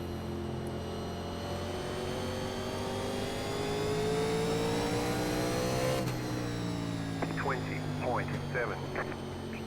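A 1987 NASCAR race car engine drones through a lap of North Wilkesboro in iRacing, the pitch rising steadily then dropping sharply as the driver shifts or lifts, with brief speech-like sounds near the end.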